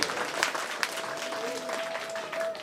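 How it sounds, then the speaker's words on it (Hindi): Sustained audience applause at a Hindu religious discourse on the Bhagavat katha, steady dense clapping from a crowd filling the whole stretch, with a faint sustained tone beneath. "आपकी तालियां अपने में धीरे धीरे हो जाती हैं"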